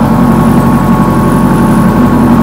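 A Zetor 7011 tractor engine on a farm field runs steadily with a loud, low, throbbing drone and no talk over it.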